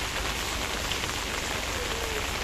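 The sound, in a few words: rain falling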